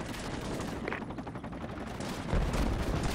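A close air support helicopter rakes bushes with sustained automatic gunfire in the video game Project Reality. The distant rattle is fairly faint, with a heavier burst of impacts near the end and no talking.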